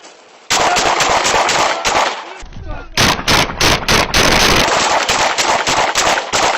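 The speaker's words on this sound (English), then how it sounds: "Thermop 5, shots fired." Gunshots fired during a police bodycam encounter at a Wyoming welfare check, a loud rapid burst of shots, then after a brief gap another volley of several sharp close shots in quick succession.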